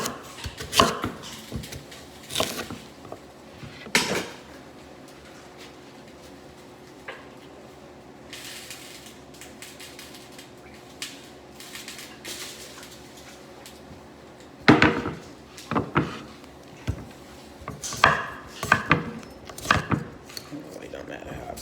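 A knife chops potatoes on a board in a home kitchen, sharp irregular knocks in clusters with long quiet gaps, a busier run of cuts toward the end, and a voice talks in places.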